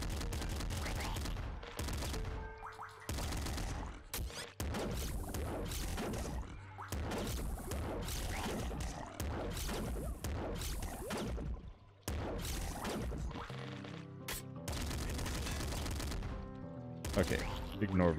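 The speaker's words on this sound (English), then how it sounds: "I think this triple machine gun is going to be better for these close quarters" A triple machine gun in Nuclear Throne fires in fast, near-continuous bursts of sharp crackling shots with brief gaps, loud and close over the game's music and effects.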